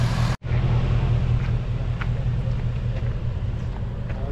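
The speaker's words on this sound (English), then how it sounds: "That V8 is sounding good as could be" A 2019 Ford Mustang Bullitt V8 with quad exhaust tips idles close by in a steady, rumbling low drone after a brief cut at the start, with no voices.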